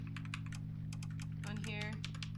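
Rapid keystrokes tap on a computer keyboard in quick irregular bursts over a steady low hum, close and clear, with a voice briefly heard partway through.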